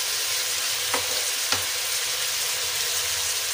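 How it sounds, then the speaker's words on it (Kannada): Raw banana curry with tomato cooking in a pan, a loud continuous close sizzle with two brief stirring scrapes partway through and no voices. "ಬಾಳೆಕಾಯಿ ಬೇಯ್ತಾ ಇದೆ."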